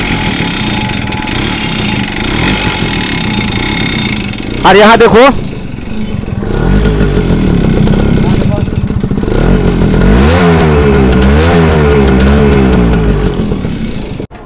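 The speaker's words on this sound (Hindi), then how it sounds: "चलो बाइक को स्टार्ट मारो, आप लोगों को साउंड दिखाता हूँ।" An old two-stroke motorcycle engine kicks to life and runs with a rattling, uneven putter and a few revs, close by, while someone talks over it.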